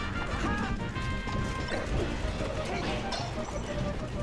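A shine clank in a Super Smash Bros. Melee doubles tournament match: sharp metallic clashing hits ring out over busy game effects, with commentators talking throughout.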